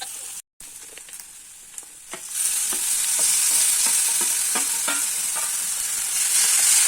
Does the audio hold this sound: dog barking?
no